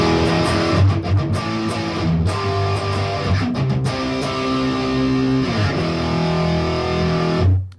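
Distorted electric guitar plays a riff in octave power chords, a loud chugging sequence of chord changes with brief muted gaps, alone with no talking.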